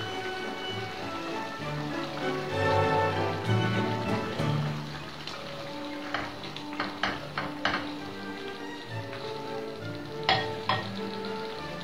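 Cod fillets go into a hot pan and sizzle and crackle up close, followed by several clattering knocks of utensils against the pan, with no talking.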